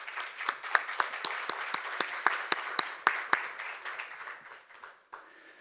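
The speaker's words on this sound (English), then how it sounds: "let's give her a round of applause" A summit audience claps steadily, a dense patter of applause with some sharper individual claps, fading out toward the end.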